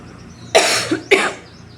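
Two sharp, harsh coughs about half a second apart, close and fairly loud, against a quiet background.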